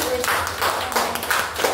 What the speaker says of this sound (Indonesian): Kita kasih tepuk tangan dulu buat Pak Edi.